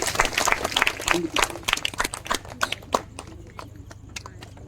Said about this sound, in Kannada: ಎಲ್ಲರೂ ಚಪ್ಪಾಳೆ ತಟ್ಟಿ ಪ್ರೋತ್ಸಾಹಿಸಬೇಕಂತ ಕೇಳ್ಕೊಳ್ತಿದ್ದೆ